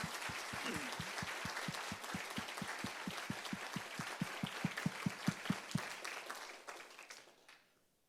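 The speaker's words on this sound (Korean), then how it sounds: "크게 우리 박수 한번 보냅시다" A church congregation at an evening revival service claps in a strong, rhythmic unison beat that holds steady, then breaks into scattered applause and fades to quiet.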